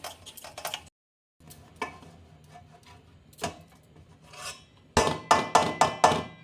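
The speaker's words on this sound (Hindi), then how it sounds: "तो इसे कद्दूकस कर लेती हूँ" Homemade paneer is grated by hand, heard as close, irregular scraping and tapping strokes. They end in a rapid run of louder rhythmic rasps.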